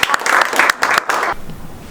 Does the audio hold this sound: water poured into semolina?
no